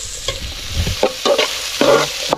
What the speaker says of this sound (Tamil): கொட்டுறா வெங்காயத்தை போட்டு வதக்குறா